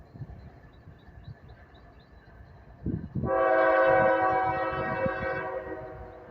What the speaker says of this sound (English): Northbound fully loaded coal train headed to the ocean, they say.